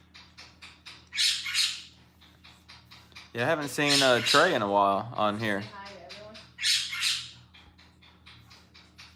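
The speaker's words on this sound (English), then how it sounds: "now the bird's gonna go crazy" A pet bird gives loud, harsh squawks in separate bursts indoors near a man chatting, with the cries landing between and around his speech.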